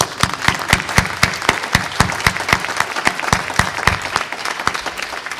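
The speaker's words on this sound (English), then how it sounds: "A big round of applause." Audience applause at a relay reporters conference session in Warsaw, a steady, dense clatter of many hands clapping indoors, sustained across the whole stretch with sharp individual claps standing out from the wash.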